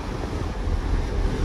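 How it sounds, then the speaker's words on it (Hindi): Cold wind blowing across the open upper deck of a ferry bound for Newfoundland, a steady low rumbling buffet close to the microphone with no voices. "और ऊपर बाहर जो है हवा भी काफ़ी ठंडी हवा चल रही है।"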